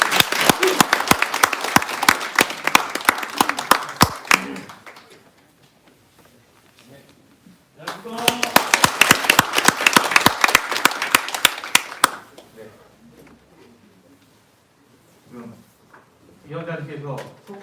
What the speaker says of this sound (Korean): 박수로 좀 맞아주시겠습니다